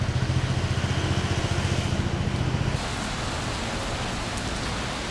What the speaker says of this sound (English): And there we go, there's the rain.